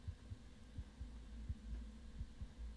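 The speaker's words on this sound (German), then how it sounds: "Oh, wir kriegen hier schon Herzklopfen." Heartbeat sound effect from the survival video game Permafrost, played on a Steam Deck: a steady, low, thudding pulse of about eight beats, alone over a faint hum.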